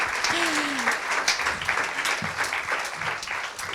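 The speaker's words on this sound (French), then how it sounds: "on peut l'applaudir pour l'encourager" A business conference audience gives a short, moderately loud round of applause for a panel speaker being introduced, with a voice speaking briefly over the clapping.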